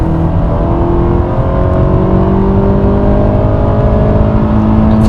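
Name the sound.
2016 Honda Accord Sport accelerating hard on highway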